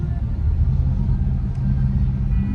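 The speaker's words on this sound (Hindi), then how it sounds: "बहुत ट्रैफिक है यार," A car sits in heavy city traffic, heard from inside as a steady low engine and road rumble that stays constant throughout with no clear acceleration.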